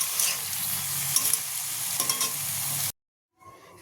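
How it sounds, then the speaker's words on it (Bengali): Food frying in hot oil until crisp and red, a dense crackling sizzle with stirring scrapes, fairly close and steady, then an abrupt cut to silence before the sizzle returns faintly. "আমি একটু কড়া কড়া করে একটু লাল লাল করে ভাজি"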